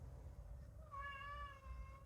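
A house cat gives one drawn-out, rising-then-falling meow, faint and close, over a low background hum with no talking.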